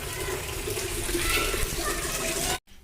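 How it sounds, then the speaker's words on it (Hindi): Water gushes steadily from a household tap into a bucket being filled for mopping, a continuous close splashing rush that cuts off abruptly at the end. "फ़िलहाल तो मैं पानी भर रही हूँ पोछे के लिए"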